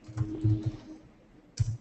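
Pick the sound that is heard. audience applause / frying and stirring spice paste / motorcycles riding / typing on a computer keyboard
typing on a computer keyboard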